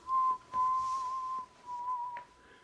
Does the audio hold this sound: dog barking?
no